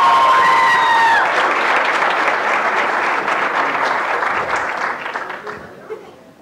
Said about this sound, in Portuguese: Mais uma vez o aplauso aí, trupe.